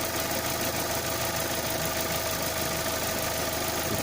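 Opel Insignia with the A16LET engine idling slightly rough, a steady close mid-pitched engine drone with faint irregular knocking pulses running throughout and no voices.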